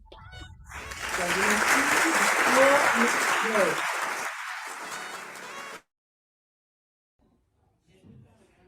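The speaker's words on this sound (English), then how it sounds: "Let's give him a huge round of applause to Mr. Dynasty Lady Gray." An audience at an African culture festival for peace claps in a loud burst that swells, holds for several seconds and then cuts off abruptly, with a voice calling out over it and a brief faint sound after.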